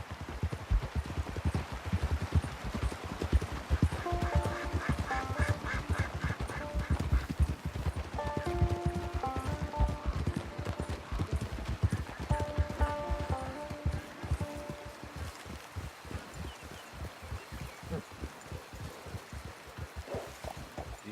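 Horse hooves clip-clop steadily in Red Dead Online, a continuous rhythmic trot of close, moderately loud footfalls running the whole time, with no voices over them.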